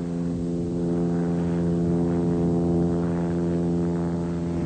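A Saab 17 propeller aircraft in flight gives a loud, steady droning engine tone with layered harmonics that holds evenly throughout, with no voices.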